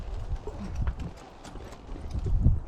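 Hooves of a wild horse clip-clop over desert ground on its first outing under saddle, an uneven rhythm of thuds rising and falling in loudness with some low rustle between steps.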